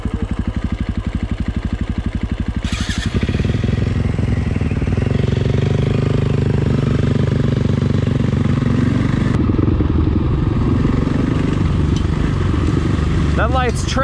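A KTM 500 EXC-F dirt bike engine on a night ride: a close, loud, rough four-stroke drone with a throttle rise partway through and a sputtering, uneven running condition, with people talking over it.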